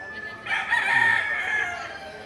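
A rooster crows nearby in one drawn-out call, with a few clucks from other chickens around it, at a livestock auction market in Padre Garcia, Batangas.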